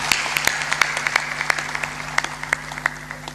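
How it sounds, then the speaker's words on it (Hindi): A small indoor audience at a religious discourse claps on request, a loose run of sharp handclaps spread through the moment over a steady low hum. "ताली जोर से बजा दो।"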